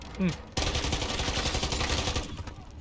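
Automatic gunfire in Call of Duty MWIII zombies mode erupts after a brief voice, a dense rapid burst of shots filling the space loudly before easing off at the end.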